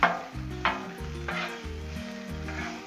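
Sausage sizzling on a Blackstone griddle, a steady hiss and crackle near at hand, with a few sharp bursts as pieces are laid down or stirred, plus light scraping underneath.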